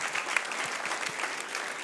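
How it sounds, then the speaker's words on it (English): A comedy show audience claps for the performer's parents, a brief, steady wash of many hands clapping together at moderate volume. "I'm going to clap for my mom and pa."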